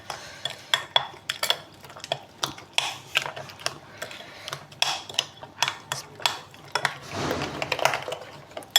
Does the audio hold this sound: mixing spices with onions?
yes